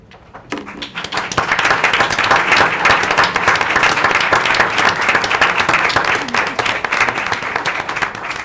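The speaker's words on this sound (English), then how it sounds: "would you please stand so that we can recognize you with a round of applause?" A school board meeting audience breaks into loud, sustained applause to recognise current and former Klein ISD students, the dense clapping starting abruptly, holding steady for several seconds, then thinning slightly toward the end.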